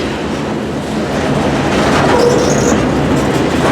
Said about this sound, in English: the big Canadian trains roll at times day and night